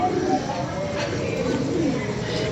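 Pigeons coo softly and repeatedly in a rooftop loft, the low throaty calls rising and falling under a steady background hum. A voice speaks nearby.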